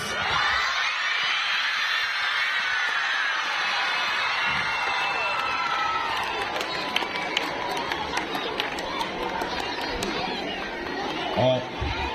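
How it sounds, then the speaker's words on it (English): A large group of schoolchildren at a Children's Day event shouts, cheers and claps in a continuous roar, loud and dense, with scattered claps and whoops standing out toward the end. "Here you can clap and shout, my dear friends"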